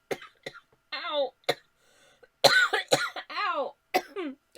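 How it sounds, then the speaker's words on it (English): Several harsh coughs and throat-clearing bursts from a person, close and loud, broken into short clusters with brief pauses and strained vocal sounds between them. "something is making me cough"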